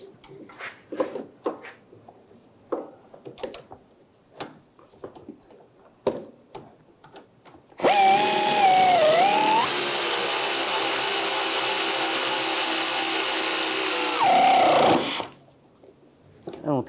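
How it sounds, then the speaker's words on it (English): Sway bar link nut on a 2013-2016 Dodge Dart tightened with an 18mm wrench and 15mm socket, first sparse ratcheting clicks and taps, then a long loud continuous whir lasting several seconds before stopping. "Using a 18mm wrench on the stud, 15mm socket, tighten down the nut."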